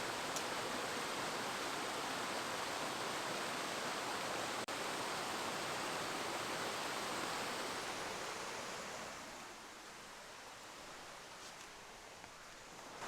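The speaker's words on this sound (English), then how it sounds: "Cool little waterfall, like water slide type thing." A small waterfall shaped like a water slide, on a fall backpacking trip in the Quehanna Wild Area of Pennsylvania, rushes in a loud, steady roar that softens somewhat partway through, with no voices.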